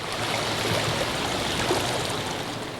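The swollen, flooding Russian River at Guerneville rushes steadily after days of torrential rain, a dense, continuous broadband roar of moving water with no voices.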